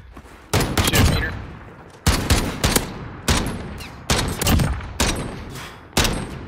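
Video game gunfire in six or seven loud, close bursts, each a sharp crack with a short decaying tail, separated by brief pauses, with no talking.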